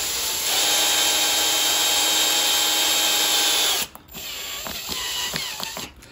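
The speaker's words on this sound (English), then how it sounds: "I'm just going to put a little screw into the back of the trunk." A small screw is driven by power driver into the back of a Hinoki cypress bonsai trunk. A steady, loud whirring runs for several seconds, then softer ratcheting clicks and short bursts follow, close by.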